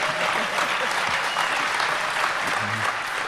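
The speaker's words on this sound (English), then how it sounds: "Well, don't applaud so loud." Audience applause at a DEFCON 19 hacker convention panel in 2011, a dense, steady wash of clapping filling the hall for several seconds with a few faint voices underneath.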